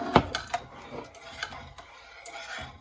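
Pot of heated milk for yogurt being stirred, with a few sharp spoon knocks and light scraping against the pot, close but quiet, the strokes spaced irregularly with soft gaps between them.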